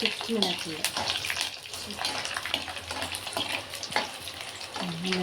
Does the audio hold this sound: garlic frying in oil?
yes